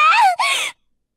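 A young female game character, Rinne, lets out a short shrill cry in two quick rising bursts, loud and close, then cuts off into silence.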